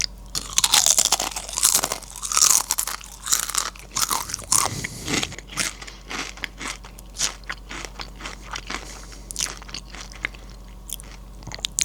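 Beer braised steak flavored Pringles chips crunch loudly and close, bite after bite, fading into softer chewing and small scraping crackles, with no talking.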